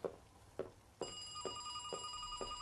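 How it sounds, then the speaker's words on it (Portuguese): A telephone bell starts ringing about a second in, a steady electronic trill with bright harmonics continuing to the end, with dull knocks and thuds underneath at regular intervals. "Telefone."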